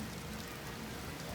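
Rain falls steadily on a flooded street, a soft continuous hiss of drops with no break.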